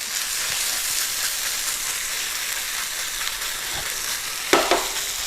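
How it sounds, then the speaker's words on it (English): Chorizo frying in a pan, a steady close sizzle with occasional scrapes and clinks of stirring near the end. "that's going to cook pretty quickly. Chorizo doesn't take long"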